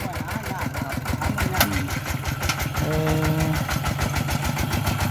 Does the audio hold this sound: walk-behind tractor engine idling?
yes